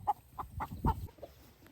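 Guinea fowl and chickens on a homestead calling, a short series of four or five clucking, squawking notes spaced irregularly, moderately close and fairly quiet, with no talk.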